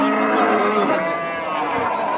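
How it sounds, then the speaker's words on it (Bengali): A Sindhi cow at a cattle market lets out one long, loud, drawn-out moo close by, its low voice wavering slightly as it fades. "এটা কি জাতের গরু সিন্ধি জাতের গরু"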